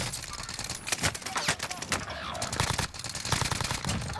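Rapid bursts of gunfire in a Warzone battle royale match, sharp cracks crowding one another in dense, overlapping volleys at close to mid range, with faint voices now and then beneath the shooting.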